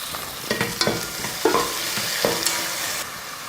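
Carrot, beans, green peas and tomato sautéing in a pan for a breakfast dish, with a spoon scraping and stirring in repeated strokes over a soft sizzle, close and clear, no voices.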